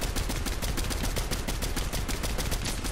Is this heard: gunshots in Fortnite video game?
yes